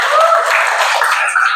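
Classroom applause in Indonesia, a dense burst of many hands clapping together, loud and close and continuous for about a second and a half.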